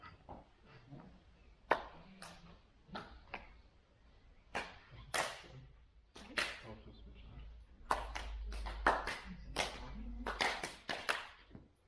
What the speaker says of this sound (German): Beim 8. Mal klatsche vor dem Herzzentrum kraftvoll in die Hände.